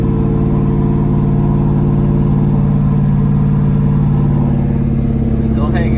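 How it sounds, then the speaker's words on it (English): A 2004 Ford Mustang Mach 1 engine holds a hanging idle from a faulty idle air control valve, a loud, steady, unchanging drone close by. "today we're looking at a hanging idle issue caused by the idle air control valve"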